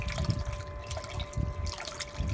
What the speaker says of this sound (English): The water coming out of here is hot, hot,